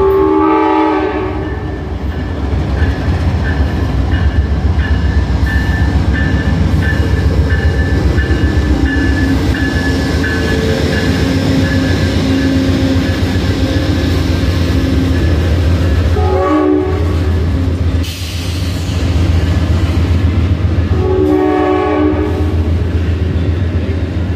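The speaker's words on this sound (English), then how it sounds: "here comes Amtrack" A loud Amtrak passenger train rolls steadily past close by in Thurmond, West Virginia for the whole stretch, with a sustained horn tone and rumbling wheels, briefly dipping near the end.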